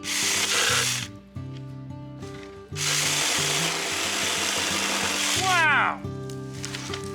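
A battery-powered Saker mini chainsaw cuts in two loud bursts, a short one and then a longer, sustained one, with its electric motor whining steadily between and after the cuts.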